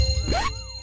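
Police siren wailing close by, a single rising sweep that climbs and then cuts off abruptly, lasting under a second over a steady low background hum.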